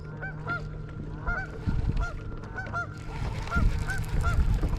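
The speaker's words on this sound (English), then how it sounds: "Got the geese riled up." Several geese honk repeatedly in short bursts beside a spring river, the calls fairly close and agitated over a steady background of water and outdoor noise.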